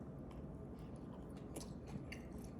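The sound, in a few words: crunchy Little Debbie ice cream with crystallized sugar being eaten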